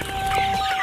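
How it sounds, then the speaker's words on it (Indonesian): Elba laying hens clucking close by, a short run of soft overlapping clucks over a steady coop hum, with a thin constant tone running beneath. "Ini jenis ayam Elba, ada petelur Elba."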